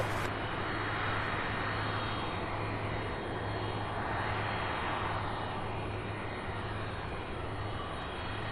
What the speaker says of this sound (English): we've got Boeing 767 UPS 2893 coming in for a landing here in the next couple of seconds